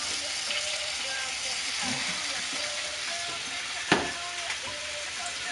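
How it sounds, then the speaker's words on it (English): Asparagus sears in a hot pan with a steady broadband sizzle and crackle, continuous and close, with one sharper pop near the middle. "Bring over the asparagus. And just sear it all off."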